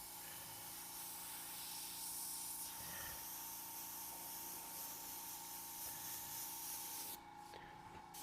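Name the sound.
airbrush spraying paint for a light highlight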